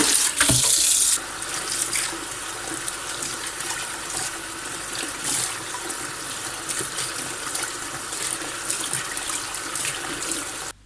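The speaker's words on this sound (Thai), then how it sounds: "ต่อไปเราจะล้างผักเสี้ยมนะคะ" A faucet runs steadily into a sink while wild vegetables are rinsed, a continuous close splashing stream with a louder gush at the start and shifting spatter as the greens move under the water.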